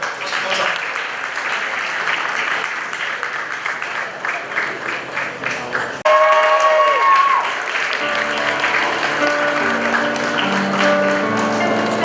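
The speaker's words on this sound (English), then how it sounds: "Please, a round of applause for her." Steady applause from a graduation ceremony audience welcoming the school principal. Continuous clapping runs throughout, with sustained musical tones entering partway through and carrying on beneath it.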